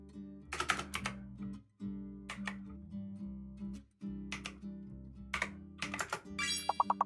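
Typing on a computer keyboard during a game session, with bursts of key clicks in quick irregular clusters, close and moderately loud over steady background game music, with a brief chime near the end.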